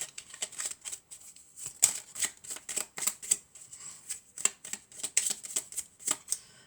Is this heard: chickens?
no